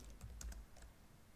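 Short burst of quick keystrokes on a computer keyboard, soft and close, a handful of light clicks in an uneven rhythm with no voices.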